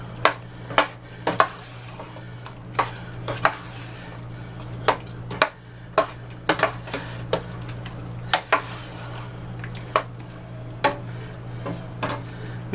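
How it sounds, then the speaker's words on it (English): Mountaineer hash with tomatoes is stirred in a pot. Repeated sharp clinks and scrapes of a spoon against the pot come at an irregular rhythm over a low, steady background hum, with no talking. "And you just stir all this up."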